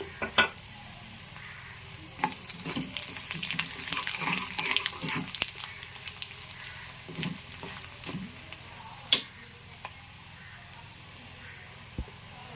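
Mustard seeds and dried red chillies frying in hot oil give a faint crackling sizzle with sharp pops and stirring clicks, quieter toward the end, over a low hum.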